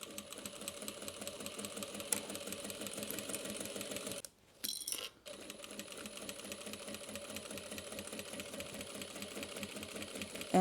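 A sewing machine stitches and backstitches fabric for a tote bag with a steady, fast mechanical chatter close by, breaking off briefly in the middle with a short pause and restart before running on.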